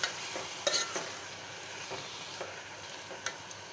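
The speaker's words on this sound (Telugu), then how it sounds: "ఇంకోసారి కలుపుకుందాం." Tomato chutney frying in a pan is stirred with a spoon, giving a steady low sizzle with a few sharp scraping clicks at irregular intervals; the sound is close but faint.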